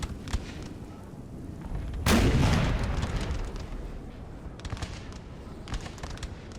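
A six-pounder artillery cannon in Napoleon Total War fires one loud boom that rolls away slowly. Faint crackles of distant gunfire sound before and after it.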